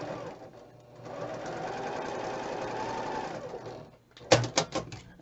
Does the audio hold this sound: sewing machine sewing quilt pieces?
yes